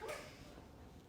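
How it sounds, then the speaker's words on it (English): An indoor dog gives a brief, faint yip or whimper right at the start, then the room falls to low background hiss. "Our dog would like to be part of it as well."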